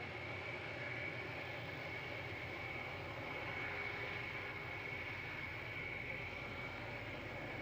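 A Concorde supersonic jet, prototype 001 with engines on full reheat power, gives a steady, distant roar that holds evenly without change throughout.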